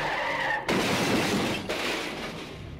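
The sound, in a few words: car skidding out of control onto sidewalk, crash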